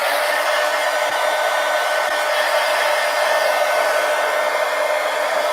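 A hair dryer blows steadily and loudly throughout, drying fresh paint on an inked art piece, a continuous even whoosh with no talking.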